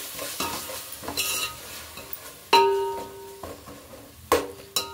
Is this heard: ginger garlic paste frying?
yes